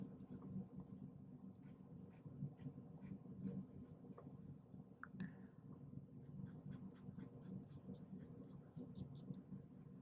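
A sharpened pencil on paper, drawing fine details of a portrait: faint, light scratchy strokes in quick clusters over a soft background hum, very quiet and close.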